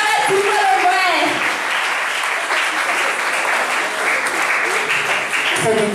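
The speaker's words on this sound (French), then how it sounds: "Une fois de plus, applaudissez pour Karel Chigualombe." An audience at a school media and journalism awards ceremony applauds for an honoree, with steady, dense, loud clapping throughout and a voice briefly audible over it at the start.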